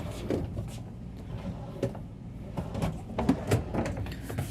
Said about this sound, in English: You're going to have a few drawers underneath.